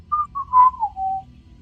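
A person whistles a short descending tune of a few close, clear notes that ends in a long held tone, with nothing else heard.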